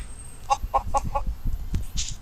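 A video-game chicken clucks in a quick run of four short notes, then lets out a couple more scattered clucks, close and clear.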